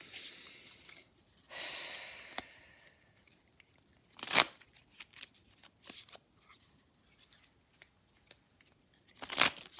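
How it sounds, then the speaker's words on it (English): A Thoth tarot deck is riffled and shuffled nearby, giving papery rustles with a longer whirring riffle and a couple of sharp card snaps spaced through the passage. "It's already shuffled, but I'm going to shuffle a few more times."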